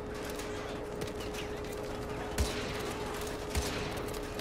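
Gunfire in the Modern Warfare 2 Remastered campaign, with two sharp shots standing out over a steady game soundscape of distant battle ambience.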